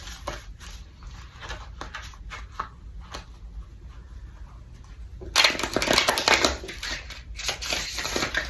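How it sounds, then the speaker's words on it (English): Tarot cards being shuffled, starting as soft intermittent rustles and riffles, then a louder, sustained crackling riffle burst near the end. "Let's shuffle this a little bit more."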